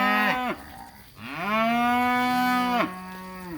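Cattle on a grazing pasture low in two drawn-out moos, the second longer and rising, loud and near, with no talk.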